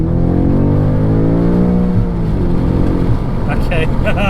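A 2021 BMW M5 Competition LCI with 625 horsepower pulls hard in first gear, its engine note rising steeply and loudly in a close, continuous rev climb.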